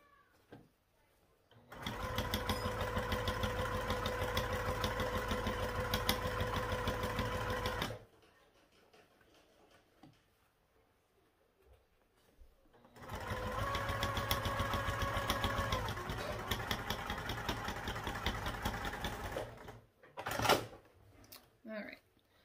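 A sewing machine top stitching a backpack runs in two long steady bursts of fast, even whirring and needle clatter, separated by a quiet pause, with a few handling clicks at the end.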